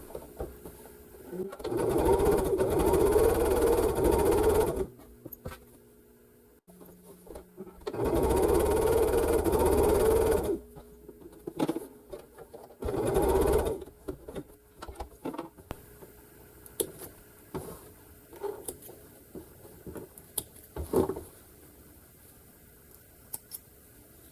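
A sewing machine stitches a quarter-inch quilt seam, running in three bursts of rapid, even mechanical whirring with pauses between, followed by quieter fabric handling, clicks and shuffling.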